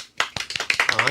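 A small group claps close by, a quick burst of distinct, uneven hand claps that starts abruptly and runs as a rapid patter, with a voice briefly audible underneath.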